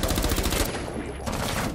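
Rapid automatic gunfire trades back and forth during a ranked Rainbow Six Siege match, dense loud bursts of shots with a brief pause before firing resumes.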